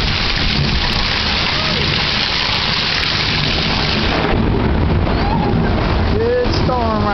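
A Florida hail storm pours down with rain in a dense, loud, continuous hiss of drops hammering surfaces, steady and close throughout, while people talk faintly beneath it.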